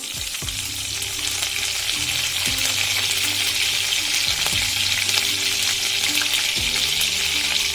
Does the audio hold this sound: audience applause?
no